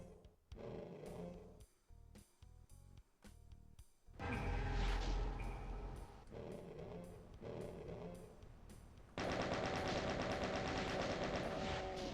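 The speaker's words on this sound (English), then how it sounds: "Now, Caco Demons, ahoy! Wait for them to surface and then rocket them." Weapon fire against Cacodemons in Doom II, a series of punchy shots and blasts with monster roars between them, then a dense continuous burst of fire at the end, loud and alone without talk.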